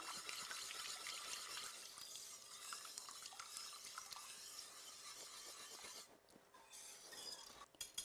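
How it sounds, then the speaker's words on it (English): Warm half and half being stirred into blueberry sauce in a pan, a faint, steady swirling and soft scraping that runs continuously with small clinks and no voices. "So now we can mix it in with the rest of our sauce."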